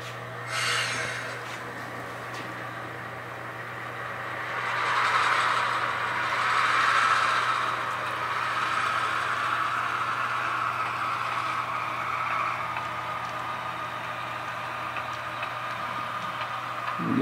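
A model train moves slowly in a rail yard as it shoves a string of cars back. A low steady motor hum and faint rolling rumble swell and ease, with brief clicks and no voices.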